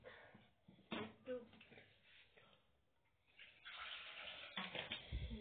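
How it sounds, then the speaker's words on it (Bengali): Hot water poured into a cooking pot while making an egg, vegetable and soya biryani: uneven splashing and kitchen clatter, swelling into a steadier rushing pour near the end. "গরম জল ছিল ওটা দিয়ে দিই।"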